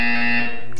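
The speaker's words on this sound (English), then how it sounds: "you will hear a buzzer" A single loud, harsh electronic buzz in Portal 2 with a steady tone, sounding briefly and alone.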